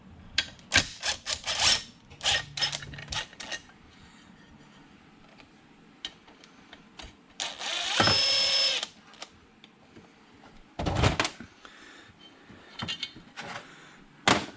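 A power tool works bolts loose from the muffler of a vintage Homelite XL12 chainsaw, in short sharp whirring bursts separated by pauses with clinks and handling noises, close by and without talk.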